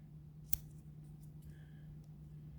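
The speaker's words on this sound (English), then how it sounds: "Now I'm going to trim one end of my foam into a nice point like this" Scissors trim foam for a Morrish Mouse variant fly meant for bass, pike and trout: one faint, sharp snip near the start, then only a steady low hum and quiet handling.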